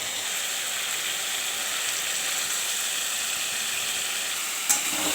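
Ground cumin, coriander, Kashmiri chilli and turmeric sizzle steadily in hot oil as they are stirred in a pan. The frying hiss is close and continuous, with a single scrape of the spoon near the end.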